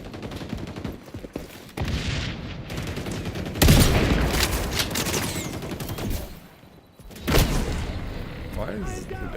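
Grenade blasts and gunfire in the shooter game XDefiant: rapid shots crackle throughout, and two heavy explosions hit hard a few seconds apart, with a short lull between them.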